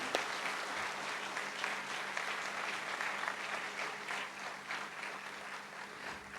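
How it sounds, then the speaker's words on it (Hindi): A crowd applauds steadily, a dense wash of clapping that holds at an even level throughout. "इन कलाकारों के लिए एक बार जोरदार ताली बजाओ, बधाई"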